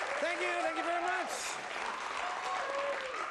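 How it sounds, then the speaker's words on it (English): An excited studio crowd claps and cheers in a steady, fairly loud wash of applause while a person talks over it. "It's an excited crowd, it's a happy crowd"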